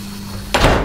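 A door in the horror video game Poppy Playtime Chapter 2 opens with a sudden loud whoosh after a steady low hum, brief and close.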